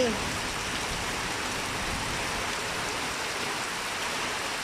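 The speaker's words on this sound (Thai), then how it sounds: "ฝนตกแล้วจ้าอำเภอกาญจนดิตจังหวัดสุราษฎร์ธานี ตกได้ประมาณ 15 นาทีแล้ว" Steady rain falling in Kanchanadit district, Surat Thani, Thailand, a dense, even hiss of raindrops with no breaks and no voices.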